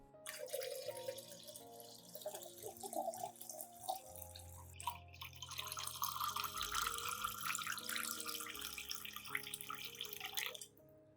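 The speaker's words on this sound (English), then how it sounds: "Add 1 liter of clean water to dilute the solution." Clean tap water, about a liter, poured into a container to dilute a fertilizer solution for houseplants, a steady splashing trickle with small drips and clinks running close and clear for around ten seconds.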